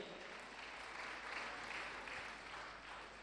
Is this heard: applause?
yes